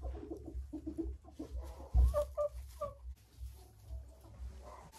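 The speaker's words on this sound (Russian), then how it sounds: "Это курочка Лигорн." A young Leghorn hen in a poultry pen gives soft, irregular clucks and short calls, fairly close, with other birds and a brief thump mixed in.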